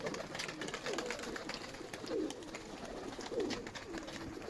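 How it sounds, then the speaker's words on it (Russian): Nikolaev pigeons, not yet finished moulting, cooing repeatedly in soft rolling phrases about once a second, over light outdoor background noise. "Голуби еще не все перелиняли"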